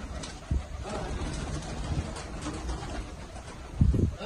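Low coos from American Fantail pigeons murmur faintly beneath a noisy background, with a couple of louder thumps or flutters near the start and end.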